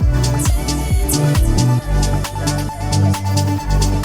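Techno drum loop with thumping kicks and hi-hats washed in reverb and delay; the kick drops out midway while the hats swell and smear, everything loud and dense with no voices.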